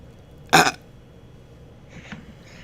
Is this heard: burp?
yes